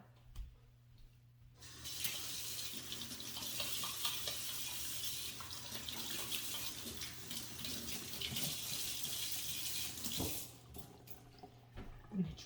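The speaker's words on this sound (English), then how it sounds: "I'm going to step over here, wash my hands" Hands are washed under a running kitchen sink faucet, a steady close stream of water splashing for about eight seconds before the tap shuts off, with no voices.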